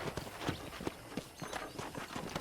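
A horse's hooves clip-clop at a steady walking rhythm in the Red Dead Redemption western video game, soft and moderately close against faint outdoor background noise.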